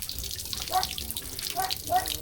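Water runs from a tap in a steady close splashing stream with a few brighter gurgling swells over a couple of seconds.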